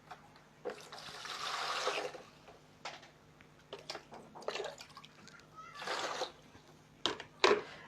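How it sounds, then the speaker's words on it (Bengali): Tie-dye cloth is dunked and soaked in water, giving several bursts of sloshing and splashing separated by quieter pauses, close and fairly faint. "কাপড়টাকে আমি একটু ভিজিয়ে নিব।"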